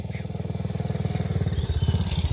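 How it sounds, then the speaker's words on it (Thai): A motorcycle engine thrums steadily and close by, its rapid pulsing growing a little louder as it comes nearer. "โอ้ยินเสียงรถมาแล้วครับ"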